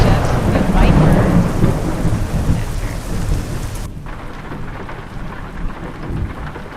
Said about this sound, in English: I like how they put the storm in this.